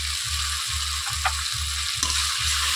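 Tomatoes fry in a pan as ground chili and spices go in: a steady, close sizzle with a regular pulsing low throb and a couple of brief scraping taps, no voices.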